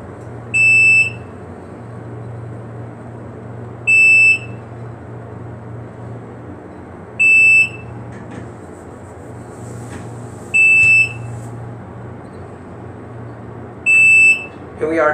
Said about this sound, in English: let's go up to 5 and listen to the motor